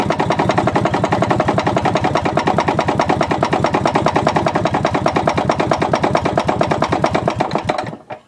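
A small engine idles steadily at low throttle, its rapid even firing pulses running loud and close for several seconds before cutting off abruptly near the end.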